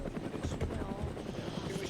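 An ARMA 3 helicopter's rotors beat in a steady low, rapid chop, fairly loud and continuous with voices faintly underneath.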